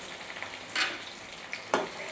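Faint, steady sizzling of onions frying in oil, broken by two short scraping bursts as they are stirred.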